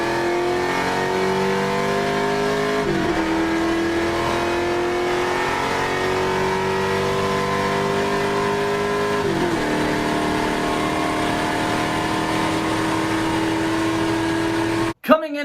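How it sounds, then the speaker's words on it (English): An LT1 V8 muscle car engine revs, its loud steady drone rising in pitch twice and then dropping back, holding near and constant before cutting off with a sharp knock at the end. "LT1 sounds freaking phenomenal"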